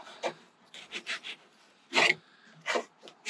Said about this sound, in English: Plastic scraper in a very, very methodical manner.